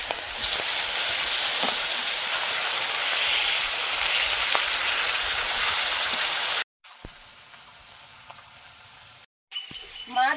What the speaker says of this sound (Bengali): আর এক সাইড ভেজে নেব